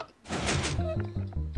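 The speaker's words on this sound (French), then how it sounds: "Oh la porte!" A door bangs open near the start of a game-studio set-building session, a broadband thump followed by people talking and laughing close by.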